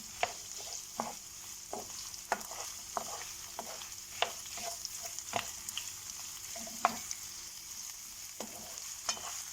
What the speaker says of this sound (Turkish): Sırayla kapya biberimi onu da bir miktar kavuracağım.